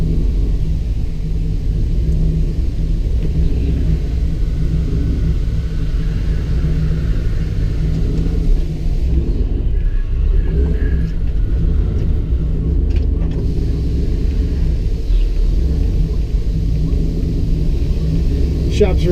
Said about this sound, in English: I'm off to the park doing a test drive video on the Bronco